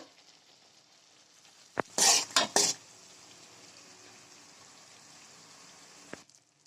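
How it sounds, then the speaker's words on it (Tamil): A brief burst of scraping and stirring in a pan of puliyodharai tamarind mixture, with a couple of sharp utensil knocks, over a quiet steady sizzle of simmering food. "இதை மிக்ஸ் பண்ணி 2 நிமிஷம் கொதிக்க வச்சுக்கோங்க சிம்ல வச்சு."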